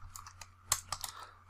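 Keys on a computer keyboard are tapped to enter a terminal command, a quick irregular run of close, crisp clicks with one sharper keystroke in the middle.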